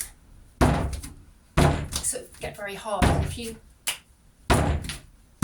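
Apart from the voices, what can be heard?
porcelain clay banged on bench before wedging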